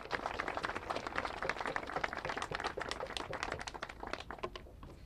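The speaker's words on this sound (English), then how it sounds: "give a round of meaningful applause to Judy and Wayne" Audience applause at a Washington, D.C. Senate event rolls as dense, sustained clapping from a crowd, steady and fairly distant, slowly thinning toward the end with no voices over it.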